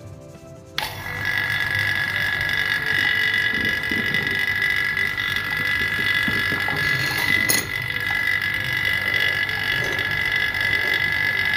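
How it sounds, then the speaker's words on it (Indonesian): An air-conditioner vacuum pump starts up just under a second in and runs on with a steady, loud mechanical drone and a high whining hum, unbroken to the end apart from one brief knock. "hubungkan ke listrik dulu nih mesin vakumnya. Udah siapnya, dan kita nyalakan mesinnya."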